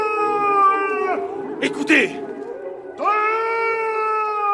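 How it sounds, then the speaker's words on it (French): A wolf howls in an audiobook sound effect, two long, loud, sustained howls close up separated by a short gap, with a voice speaking briefly in between. "Un loup!"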